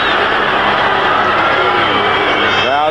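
A football stadium crowd at a 49ers–Falcons game rises to its feet, a loud, dense roar of cheering and excited noise that holds steady throughout, with a voice briefly speaking near the end.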